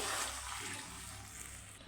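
Water pours steadily into a pan while cooking semiya upma, a continuous close splashing rush that lasts the whole moment with no voices.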